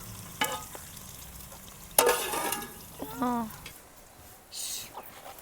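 Onions fry in a pan for a Telugu kandikattu charu (lentil rasam), with a soft sizzle under scattered sharp utensil clinks and scraping stirs, plus a brief high chirping tone near the middle.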